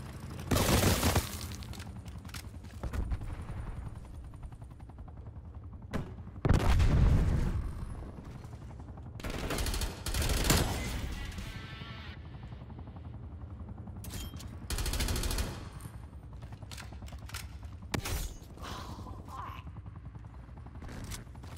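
Gunfire from a nail gun and rifles in Black Ops Cold War multiplayer, a video game: loud bursts and single shots recur in clusters throughout, with mechanical clatter between them and someone talking over the action.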